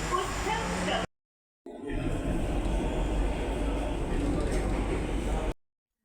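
Interior of a moving local train in Navi Mumbai, a steady rattling rumble of the carriage with a brief dropout of sound near the start, while a voice talks over it.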